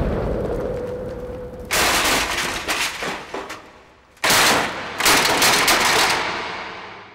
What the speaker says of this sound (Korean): 두 사람을 집어삼켜버린 폭발.